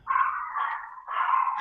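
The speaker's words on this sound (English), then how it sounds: "oh, someone's barking" A dog barks nearby in two drawn-out, yelping bursts, alone with no talk.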